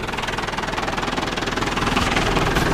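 A small 105 tractor engine runs close by, a loud, steady chugging with a rapid pulsing beat that grows slightly stronger toward the end.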